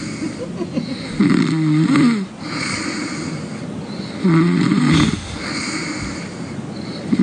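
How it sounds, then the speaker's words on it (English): Two long, loud snores about three seconds apart, each a rough, rattling inhale with a nasal buzz, over a steady low background hum. "I didn't know I snored like that."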